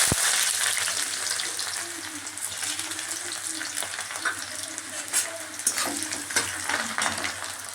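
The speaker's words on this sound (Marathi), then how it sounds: "तेल तापलेलं आहे, आता याच्यामध्ये कांदा टाकते" Chopped onion hits hot oil in a pan for fried rice and sizzles steadily up close, with scattered crackles and the scrape of stirring running through the whole stretch.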